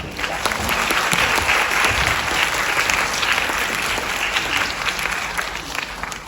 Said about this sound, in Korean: 입장하실 때 다시 한번 박수 부탁드립니다